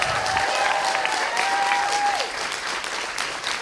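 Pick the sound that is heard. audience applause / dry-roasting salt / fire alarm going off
audience applause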